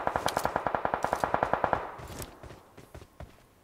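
Rapid automatic gunfire in the mobile battle-royale game PUBG Mobile on the Livik map: a steady burst of about fifteen evenly spaced, sharp shots, loud and close, then a few scattered distant shots trailing off with echo.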